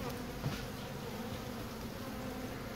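Steady, close buzzing of many bees around honeycomb taken from a hive removed from inside a house, continuous and fairly faint.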